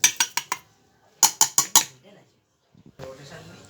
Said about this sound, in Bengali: ঢেলে নিলাম মিক্সির বাটির মধ্যে।